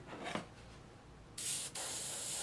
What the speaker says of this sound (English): Just going to give a spray, let it mix through.